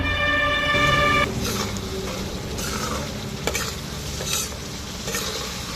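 Spice masala for a chicken curry being stir-fried, cooked in a car, with a continuous close sizzle and repeated scraping stir strokes; a steady horn-like tone sounds over the first second.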